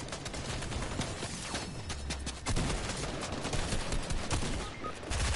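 Dense automatic gunfire and overlapping shots in a Fortnite trio cup match, sustained and loud throughout, with bursts piling over one another and no talking.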